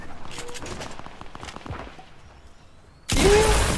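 In Fortnite Battle Royale, scattered quiet gunshots and taps sound early, then a loud burst of gunfire erupts near the end.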